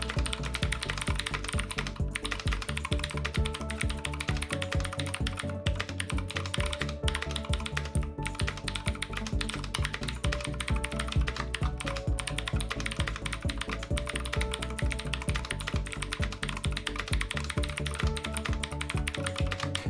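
Steady, close typing on an Alfawise RGB mechanical keyboard V2, a budget gaming keyboard: continuous rapid key clicks and clacks that run for the whole stretch over a soft musical backing.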